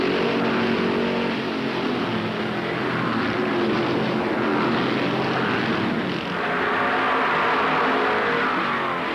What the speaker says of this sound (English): David Pearson, after riding Petty's bumper for 50 miles, stands on the throttle